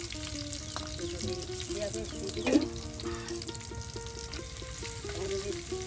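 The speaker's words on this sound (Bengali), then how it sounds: "আর এখন পেঁয়াজ পেঁয়াজ রসুন এগুলি কিন্তু এখন তেলে ভেজে নেওয়া হবে" Onion and garlic sizzle and fry in hot oil in a home kitchen. The crackle is steady and close, with occasional stirring and faint sounds in the background.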